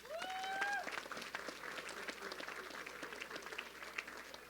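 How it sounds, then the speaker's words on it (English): Dinner audience applauding in a room, steady dense clapping for several seconds after a brief whistle or tone at the start, moderately distant. "A big round of applause to everybody in the room tonight"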